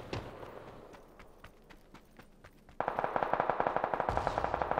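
Gunfire in the battle-royale game PUBG: spaced single shots for a few seconds, then a fast, steady automatic burst of evenly paced rounds, fairly close and sharp.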